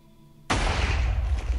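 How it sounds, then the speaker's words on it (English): A sudden loud blast in Minecraft, set off by a note block, bursts in after a quiet moment and rumbles on heavily with deep low-end roar to the end. "Wait for the explosion."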